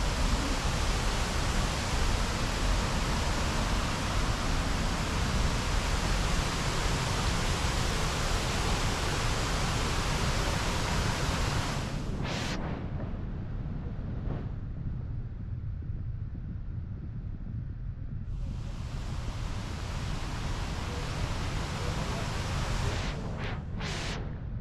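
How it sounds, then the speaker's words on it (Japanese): Several waterfalls at Roberto Barrios roar as a steady, loud wash of rushing water that fills the whole stretch, dipping briefly in the middle before returning at full strength. "ここ正面にいっぱい滝がある"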